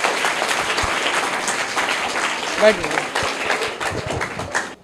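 Loud, sustained applause from a crowd of schoolchildren at a quiz fills the whole stretch, dense clapping with a few scattered voices beneath it.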